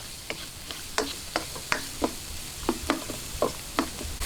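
Garlic and onion sauté in a pan with a soft, quiet sizzle, broken by a dozen or so sharp scraping taps of a utensil stirring at an irregular pace.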